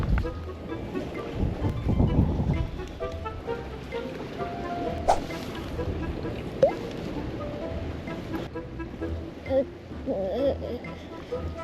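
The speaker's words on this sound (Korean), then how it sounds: "아, 바람." Wind gusting over the open sea while shore fishing for black sea bream, a steady blustery rush with microphone buffeting, strongest early on and continuing throughout with a few scattered knocks.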